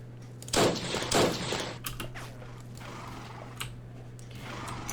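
Machine gun fire in a Men of War WW1 mod battle game set with desert cavalry: two loud short bursts near the start, then softer scattered distant shots over a steady low hum.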